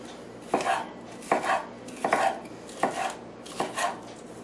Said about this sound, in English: Cut her in some slices. Careful, sharp knife.